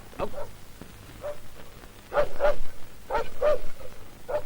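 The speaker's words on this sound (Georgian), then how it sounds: "კარაქელის ძაღლს გეშინიათ." A dog barks and yips in short bursts, a few sharp calls close by, with people talking in the background.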